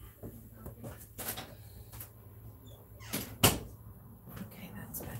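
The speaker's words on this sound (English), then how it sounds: "let me just close this door" A door inside a home closes with a single sharp knock-like thud close by, among a few softer bumps and rustles, with a voice talking quietly in the background.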